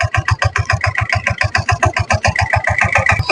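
A tractor engine chugs in a fast, steady rhythmic pulse while spreading fertilizer in a village field, loud and close with even repeating beats.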